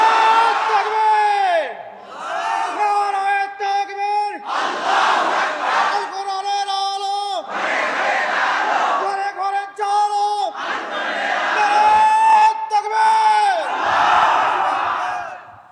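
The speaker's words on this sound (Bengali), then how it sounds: "একটু জোরে তাকবীর বলেন তো। আল্লাহু আকবার।" A large crowd at an outdoor religious gathering in Belpukur, Rajshahi loudly chants the takbir, Allahu Akbar. A lead voice calls it out and many voices roar back in several repeated, forceful waves.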